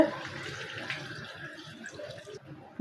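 Water is poured into a pot of chicken curry with radish and potatoes, making a soft, continuous splashing rush. It is quiet and close, with faint background murmur and a brief pause near the end.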